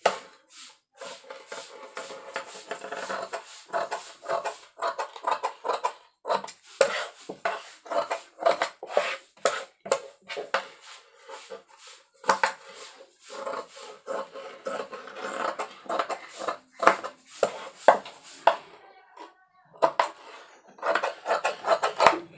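Scissors cutting the back part of a blouse fabric, with a run of short crisp snipping and rasping strokes in an uneven rhythm, close and clear with no talk.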